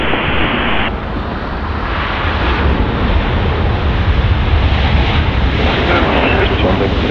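An Airbus A330 taking off at Zurich in the Infinite Flight simulator: a steady, loud, broadband jet engine roar holding constant throughout, with a slight shift in tone near the start and no clear talk over it.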